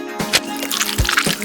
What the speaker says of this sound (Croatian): Sada treba iscediti sok.